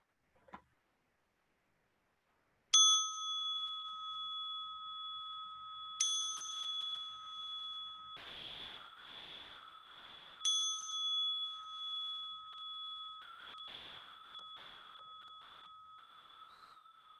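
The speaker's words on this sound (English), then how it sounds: "we'll ring the bell to pull us out of this meditation." A meditation bell rings three times at the close of a mindfulness body scan session, each strike bright and clear with a long, pure sustained tone that decays slowly, with soft rustling between strikes.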